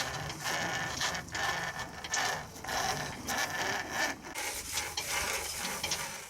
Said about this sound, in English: We use garden hose reels for our lines.